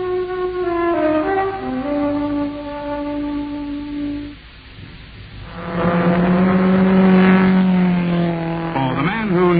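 A car engine revs hard in a 1969 advert for Johnson's Rally car wax, starting steady, then dropping away before surging back up loud and close at around six seconds.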